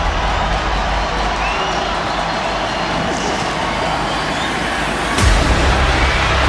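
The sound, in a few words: football stadium crowd cheering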